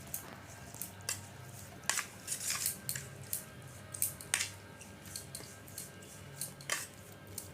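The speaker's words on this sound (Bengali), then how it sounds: "এবার ভালো করে মেখে নিচ্ছি।" Pomelo salad is mixed by hand with sugar and chopped green chilli, giving soft wet squelches and light clicking contacts in an irregular rhythm, faint and close, with no talking.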